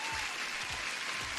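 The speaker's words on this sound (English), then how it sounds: "And as a new sub, you deserve an applause." A short burst of crowd applause plays as a sound effect, dense and steady clapping that lasts only a moment.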